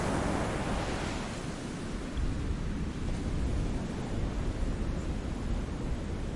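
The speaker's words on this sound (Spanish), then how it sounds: "Solo el rugido lejano de las olas rompía la quietud." Steady distant roar of ocean surf, a continuous broad wash of breaking waves with no distinct individual crashes, heard alone with no voices.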